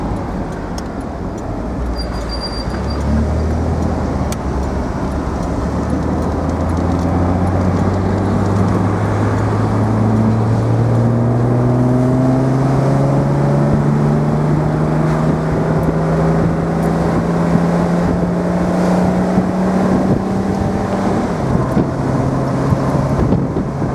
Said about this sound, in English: Transmission noise